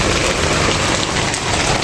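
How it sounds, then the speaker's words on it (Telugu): Heavy rain pours down in a village, a dense, loud, unbroken hiss of drops beating on surfaces with no pause and no voices. "ఇప్పుడు అక్కడ మా ఊర్లో ఇక్కడ ఫుల్ వర్షం"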